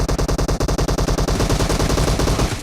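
Rapid automatic gunfire from a team-based video game, loud and close, fires as a fast, even stream of shots that tightens into an almost continuous roar.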